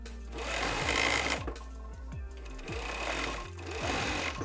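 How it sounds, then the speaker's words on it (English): A sewing machine stitching beanie fabric runs in close, steady bursts of rapid mechanical whirring and rattling, pausing briefly before starting up again, with no talk. "as the machine is sewing, it's gonna cut the X's"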